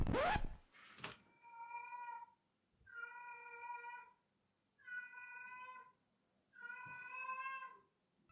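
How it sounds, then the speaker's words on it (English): A cat yowls in four long, drawn-out wails spaced evenly apart, each rising and falling and sounding close and clear, after a short burst of noise at the start, with no talk. "My cat's working on her yodeling career."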